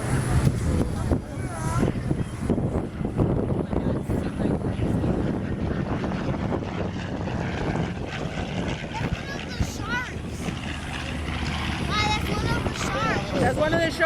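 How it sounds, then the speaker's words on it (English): A B-25 bomber makes a simulated bombing run at an air show, its propeller engine roar sustained and moderately loud throughout, heard beneath an announcer's commentary and crowd chatter. "here's the next B-25 coming in from the left on a simulated bombing run"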